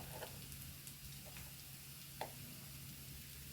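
Spices frying in a pan with Kashmiri chilli, turmeric and garam masala powder, a constant close hiss of sizzling oil with a few faint stirring scrapes and one small clack near the middle.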